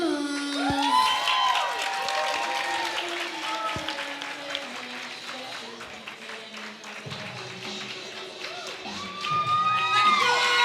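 A crowd cheers and applauds as a fighter from 10th Planet Greenville in the 155-pound division steps onto the mat at a grappling event, sustained loud cheers and whistles under an announcer's voice, swelling again near the end.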